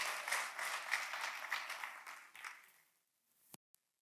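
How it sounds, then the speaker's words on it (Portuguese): A church congregation applauds in worship, a full wash of many clapping hands that fades away over about three seconds, followed by silence and a couple of faint knocks. "Você pode aplaudir Jesus?"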